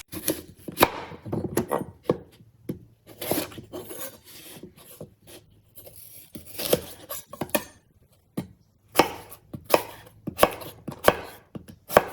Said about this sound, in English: let's cut up some apples and onions